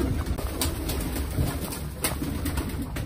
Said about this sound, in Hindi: ले जी, कबूतर आना शुरू हो गया